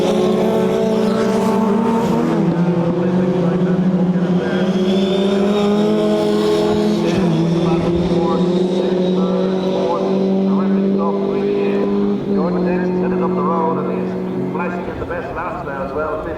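Historic Formula Ford race cars compete at a circuit festival, with loud overlapping engine drones rising and falling as the cars pass close. A commentator talks over the noise throughout.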